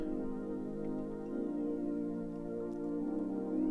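Spacey synth playing the slow main melody of a song, sustained layered tones that shift pitch a couple of times, steady and even throughout.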